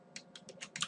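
Several quick, light key clicks on a computer keyboard during digital painting, five soft taps in rapid succession, close but faint, with no talking.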